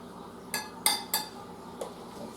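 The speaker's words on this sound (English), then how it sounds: "Put the rice on your dish." Leftover yellow rice being served onto a dish brings a few sharp clinks of a utensil against the plate, three close together and one lighter tap after a short pause.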